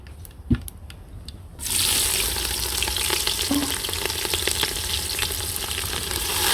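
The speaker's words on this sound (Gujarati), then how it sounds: "તો હવે નાખી દઈશું આપણે ડુંગળી" Onion dropped into hot tempering oil for Kathiyawadi masala rotli, a quiet moment with a single knock before a sudden loud, steady sizzle erupts and keeps crackling nearby.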